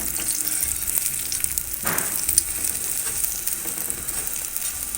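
A paratha frying in desi ghee on a hot pan, a steady, close sizzling hiss that continues throughout with a brief louder crackle partway through.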